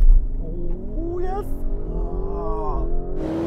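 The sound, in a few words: Lamborghini Urus and Porsche Cayenne SUVs accelerating in drag race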